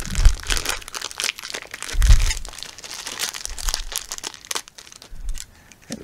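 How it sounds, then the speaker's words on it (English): Scissors cut open a plastic bag, with continuous crinkling and rustling of plastic broken by a few sharper crunching snips, close and fairly loud. "I should be able to cut my way out of this bag here."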